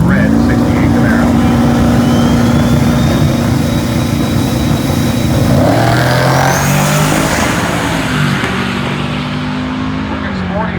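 Turbocharged LS-swapped Honda S2000 drag car at a drag racing event, its loud steady engine drone holding for several seconds, then shifting pitch and accelerating hard, with a race commentator talking throughout.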